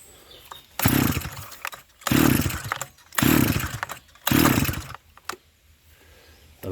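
A Stihl FS300 brushcutter engine, just after a carburetor adjustment, revs hard in four separate bursts, each dropping back to a low idle between them, loud and close.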